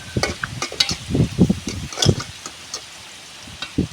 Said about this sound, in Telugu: ఆనియన్స్ అయితే బాగా మగ్గిపోతున్నాయి కదండి